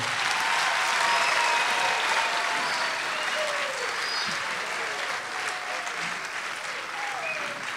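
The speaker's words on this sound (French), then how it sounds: "Maintenant, applaudissez tout le monde." A large crowd applauds at a Kimbanguiste music concert at the Institut Français, a thick, sustained burst of clapping that swells early and eases slightly toward the end.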